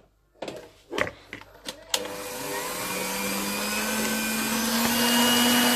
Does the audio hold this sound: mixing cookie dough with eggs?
yes